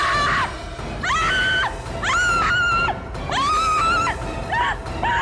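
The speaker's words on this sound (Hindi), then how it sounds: "इतना चिल्ला क्यों रही हो?" A woman screams in four or five long, piercing wails separated by short pauses, loud and close over a dim, noisy room background.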